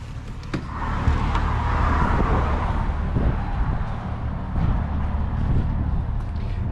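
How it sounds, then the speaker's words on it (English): Outdoor road traffic noise beside a car park at a car meet, a steady broadband rumble of passing vehicles with some wind buffeting on the microphone, continuous and moderately loud. "It's kind of noisy out here with road noise as well"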